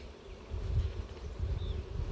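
Honey bees from a package with a mated queen hum in a steady low drone as they are shaken into a hive, fairly close and continuous, with no talk over them.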